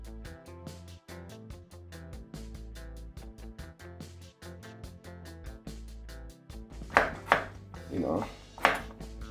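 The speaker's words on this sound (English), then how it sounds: "we'll be cutting our pumpkin into small cubes" A knife chops raw pumpkin into small cubes on a cutting board, many quick close taps in a steady rhythm, then a few louder, sharper cuts near the end, with a brief spoken remark.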